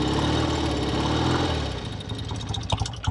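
A 1969 BSA Lightning 650 motorcycle with a 4-speed transmission idles steadily after a kick start, its throbbing exhaust rhythm close and loud and easing slightly toward the end, with no voices.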